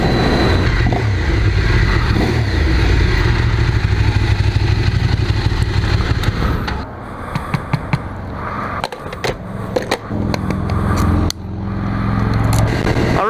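Ducati SF848 motorcycle engine running loud and steady, then dropping and cutting in and out with revs and clunks before surging back up as the bike rides off on a rural New Hampshire road.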